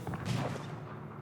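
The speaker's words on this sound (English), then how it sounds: "Here, the cannons going off." Cannons firing in an Age of Empires IV battle, giving a brief cluster of muffled, booming blasts with rumbling low end that fade over about a second.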